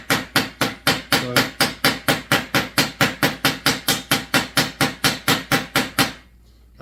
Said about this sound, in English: I'm just clubbing it enough that it won't come out.